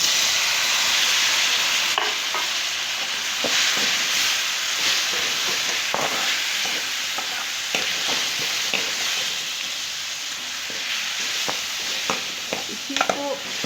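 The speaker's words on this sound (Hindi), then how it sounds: "इसी को मिक्स करेंगे, तब तक पकाएंगे टमाटर पेस्ट जब तक ना हो जाए" Tomato paste with powdered red chilli sizzles steadily in a pan for a moong dal methi sabzi, with a constant broad hiss broken by frequent scraping clicks of a spoon stirring and mixing throughout.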